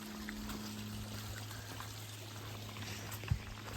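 Water flows steadily at a river crossing on the Appalachian Trail, a continuous trickling rush close by with a low hum underneath, holding even throughout and broken by one brief knock near the end.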